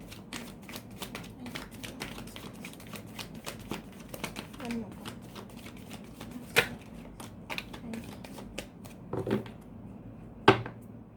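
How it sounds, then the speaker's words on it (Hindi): Tarot cards being shuffled by hand give a run of soft, quiet riffling flutters with a few sharper slaps, under faint background voices. "अब एनर्जी चेंज हो चुकी है क्योंकि मैंने शफल किया है"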